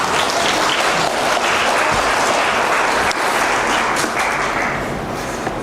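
Sustained applause from an audience at a high school admissions information session in Korea, dense and loud clapping filling the room throughout.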